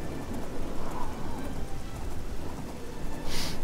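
Steady rain falls in the video game Oblivion, a continuous hiss of drops that holds at an even level throughout, with a slightly brighter patter near the end.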